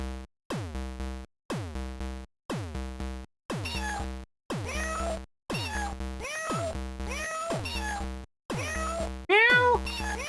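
A person mimics a cat, giving about nine drawn-out meows in a steady rhythm, each separated by a brief silence, over a constant low hum during an online Sea of Thieves session with friends.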